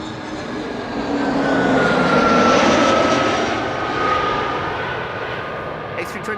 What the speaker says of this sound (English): A321neo KLM flight